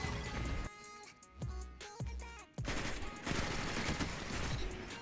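Rapid auto rifle fire in Destiny 2 player-versus-player combat, with a couple of short bursts followed by a longer sustained stream of loud shots and impact crackle.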